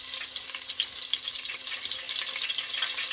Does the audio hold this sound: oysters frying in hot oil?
yes